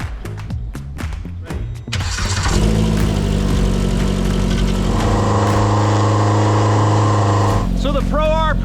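A Polaris RZR Pro R with an EVO turbo build fires up after a few clicks and settles into a loud, steady engine drone close by, with voices talking over it and a brief whine near the end.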